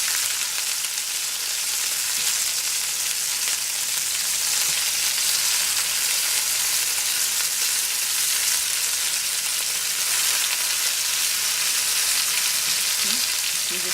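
Potato slices pan-frying in hot, salted oil give off a steady, dense sizzle that carries on without a break, close and even in loudness, with no voices.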